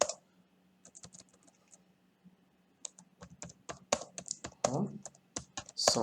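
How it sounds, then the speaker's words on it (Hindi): Typing on a computer keyboard, a run of quick, light, close key clicks in irregular bursts with a short pause partway through, faint and dry. "जैसे मैं लिखता हूँ"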